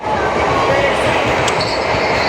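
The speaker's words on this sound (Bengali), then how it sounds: "তো এরপর দেখি গতিতে ট্রেনটা আগাই যাচ্ছে" A moving train heard from on board on a journey in Purulia toward Adra station, a loud, steady rumble of wheels on track with a faint squeal near the end.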